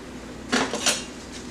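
A mold for shower steamers gets tapped, giving two quick, bright, hollow knocks close by against a faint steady background, with no talking.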